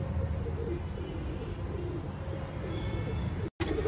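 Pigeons, including Kashma pigeons, coo in low repeated throaty calls close by, carrying on steadily for several seconds with a brief dropout near the end.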